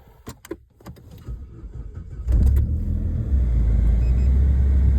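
A 1997 Saab 900S Turbo cranks briefly after a few clicks from the key and ignition, then catches into a deep, steady idle rumble that fills the rest of the clip at close range.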